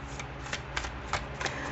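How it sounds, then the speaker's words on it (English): Reiki healing cards printed on both sides are shuffled by hand, a run of soft riffling flicks in an uneven rhythm, close and fairly quiet. "But what we're going to do is shuffle them."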